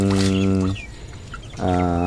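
A hen gives two drawn-out, harmonic clucking calls separated by a brief quiet gap, close and loud.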